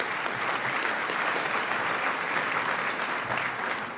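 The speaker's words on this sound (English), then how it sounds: "let's give Pat a round of applause and acknowledge her for her great work" Sustained applause from an audience at an annual conference awards lunch, a dense steady wash of clapping filling the room for the full span without a break.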